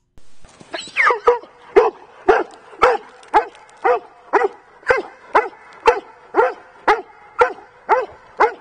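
A service dog barks obsessively at a thrown ball, a long run of loud, close, evenly spaced barks about once every half second, with no talking.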